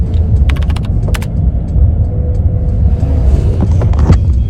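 Car driving along, a steady low engine and road rumble inside the cabin with a few small clicks and rattles, no talking.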